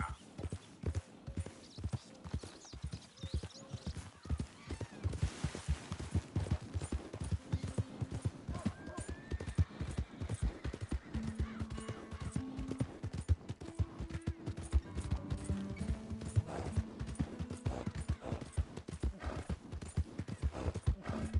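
Rapid horse hooves clip-clopping in a fast, continuous rhythm in the game Red Dead Redemption 2, with a whinny and game-like sound effects layered over the galloping.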